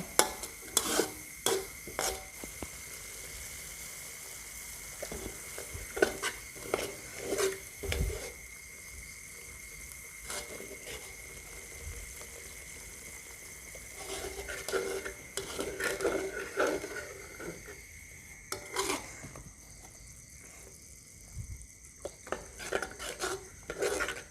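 A metal spoon scrapes and clinks against a pot as coconut milk is added bit by bit to curry paste frying for a Thai tepo curry with pork belly, with intermittent stirring strokes, rattles and a soft sizzle underneath.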